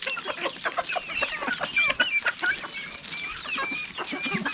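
Village roosters and hens in a Konkan backyard flock cluck busily together, overlapping chatter from several birds with sharper calls rising now and then.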